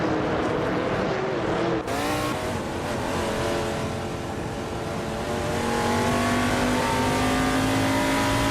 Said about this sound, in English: Scott Dixon's car is an AMC Matador from 1971, starting in 4th